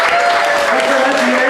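A stand-up comedy crowd breaks into a short, loud burst of practice applause, a dense steady wash of clapping lasting a second and a half.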